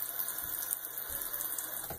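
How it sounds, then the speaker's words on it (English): Water poured and splashing into a shave lather bowl, a soft continuous trickle and wash at low volume, close by, with no talking. "I'm going to actually splash a little more water in there"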